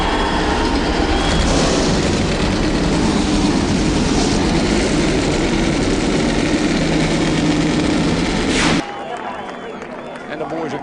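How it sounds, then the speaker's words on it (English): Loud, dense roar of many NASCAR Sprint Cup race car engines starting, rumbling and droning together for about nine seconds at the Kansas STP 400, then cutting to a quieter background with faint voices. "Gentlemen, start your engines."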